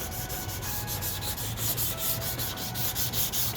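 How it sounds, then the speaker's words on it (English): A scratched car headlight being sanded by hand, a steady close rasping rub with rhythmic back-and-forth strokes and no talk. "Continue sanding at it, get all the scratches out."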